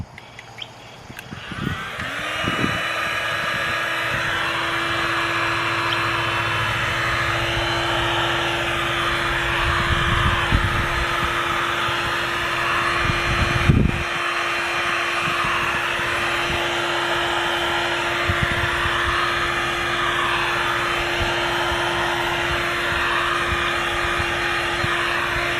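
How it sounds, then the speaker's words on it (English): A heat gun warms a tight-fitting pipe fitting for an underground rainwater tank line, with a steady whirring blow and a constant hum, and faint handling knocks over it throughout. "what I'm going to do is heat it up with the heat gun"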